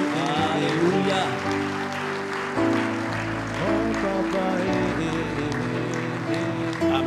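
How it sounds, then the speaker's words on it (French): A church congregation claps and cheers in a large hall, a sustained wash of applause and shouting mixed with singing voices and music. "Si tu veux acclamer, acclame bien."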